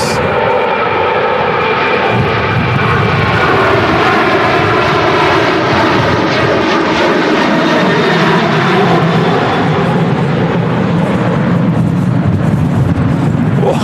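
An airliner lands in strong crosswinds during a storm at Manchester Airport, heard as a loud, continuous roar of jet engines and wind that stays steady throughout, with no talking.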